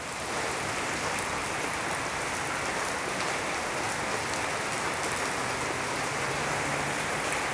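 Heavy rain pours steadily on a modern tropical house and its concrete carport in Bekasi, a dense, even hiss of drops with water running nearby, loud and unbroken throughout with no voices.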